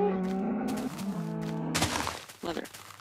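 A Minecraft cow moos in a drawn-out, wavering low call that ends in a burst of game noise, with brief clattery game sounds after it and a player's voice mixed in.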